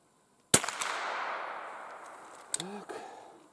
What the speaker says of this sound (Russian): Последний патрон выстрелю